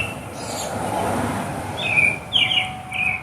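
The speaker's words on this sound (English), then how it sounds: "You hear how loud those birds are? I can't even sleep because the birds are so loud." Birds singing loudly outdoors at 4 a.m. under artificial light, bright repeated chirps rising over a steady low rumble of background noise.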